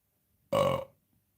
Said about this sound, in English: we've had 2 burps so far